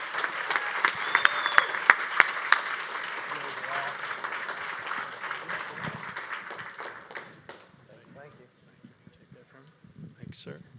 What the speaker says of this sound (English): can we get a huge round of applause for our amazing Sharks tonight?